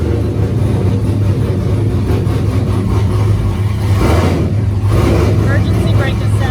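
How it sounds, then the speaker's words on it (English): A race car engine runs at a steady, loud, rumbling idle up close, with people talking over it throughout. "Crank her up and try and put her in reverse, Aaron."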